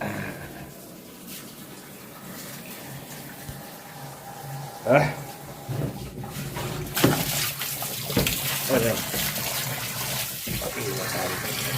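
Water gushes from a household tap during laundry chores, a continuous rushing stream that swells louder in the second half while a voice talks over it.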